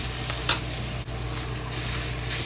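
Ground beef cooking slowly in oil with ginger and scallion, giving a dense, steady, close sizzle that holds throughout. One brief scrape cuts through early on and a short dip follows, with no voices.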